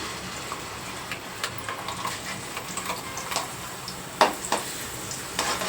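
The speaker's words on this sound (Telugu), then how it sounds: "ఇప్పుడు ఈ పేస్ట్ మనం ఆల్రెడీ ముక్కలు తీసేసిన తర్వాత ఆయిల్ ఉంది కదా ఈ ఆయిల్లో వేసేసుకోవాలి" Onion, green chili and fresh coconut paste frying in hot oil for a capsicum curry, giving a steady soft sizzle with scattered crackles and pops, close and alone without talk.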